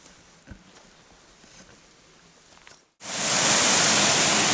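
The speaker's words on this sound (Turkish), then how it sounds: "Köyümüzün Aygır Şelalesi." Aygır Waterfall near a village in winter crashes in as a loud, steady roar of falling water after a quiet outdoor stretch with faint scattered sounds and a brief hush.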